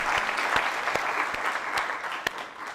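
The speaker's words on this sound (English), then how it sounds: "Another clap for Ambassador Juma." Indoor audience applause at a university commemoration event in Nairobi, moderate steady clapping from a seated crowd with occasional louder single claps, lasting a few seconds.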